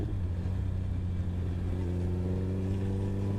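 Suzuki Hayabusa motorcycle engine at steady cruise on a straight road, a continuous low droning hum with stable harmonics and constant wind rush, no talking.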